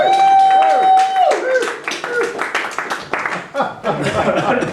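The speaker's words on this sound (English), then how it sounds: "there's several reasons why that applause was insufficient" Live-venue audience at a Streetlight Guild show gives a short round of clapping with a few chuckles, mixed with crowd chatter and a sustained tone at the start; loud and close throughout.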